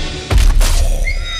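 A horse whinnies amid the clash of a Game of Thrones battle scene: one loud, harsh burst of neighing cuts in after a brief quiet moment and rings on over a dense wash of battle noise.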